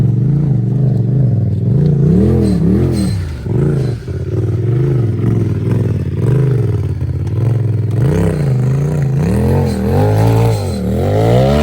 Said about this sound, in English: It's a 104 wheelbase turbo buggy.